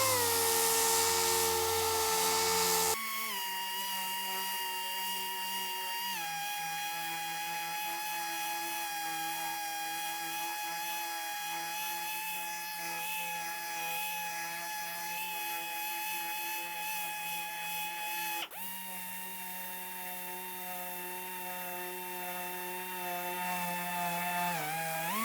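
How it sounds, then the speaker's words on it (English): A finish sander fitted with 220-grit paper smooths Bondo filler edges on a car body, a steady high-pitched whine running continuously with a few brief pitch shifts as pressure changes, close and loud with no talk. "I'm going to take 220 on my finish sander and finish these edges out"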